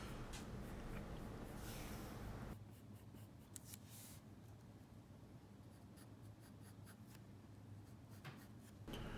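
Pencil or marker strokes scratching across paper while a candle is drawn, a steady soft scraping that runs close and continuous with brief pauses, over a low room hum and no talking.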